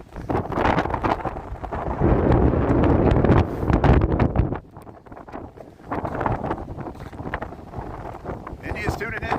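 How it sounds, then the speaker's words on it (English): Gusty wind rushes around tall downtown Chicago buildings on a December morning street, a loud, rumbling roar buffeting the microphone, easing briefly midway before picking up again. "You hear the wind? It's getting windy around these tall buildings."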